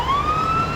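A fire truck or police car siren leads a St Patrick's Day parade downtown in soft rain, a single rising wail that is loud and near over street rumble.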